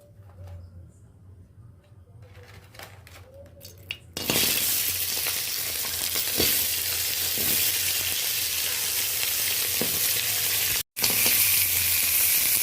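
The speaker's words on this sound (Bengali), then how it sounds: "এবার কাঁকড়াগুলো ভেজে নেব।" Red Sundarbans crabs hit hot oil in a pan, a soft lead-in giving way to a loud, steady, close crackling sizzle that runs on with a brief break near the end.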